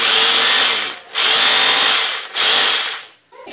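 A Blue Hawk three-function hammer drill runs loud and close at variable trigger speed, its whine surging in three bursts with brief dips between as the trigger is eased and squeezed again.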